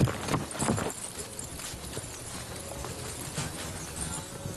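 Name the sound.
horse hooves clip-clopping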